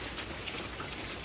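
Steady rain falling on a rainy Sunday morning, a dense, even hiss of drops pattering on surfaces with a few sharper splats, close and continuous, no voices.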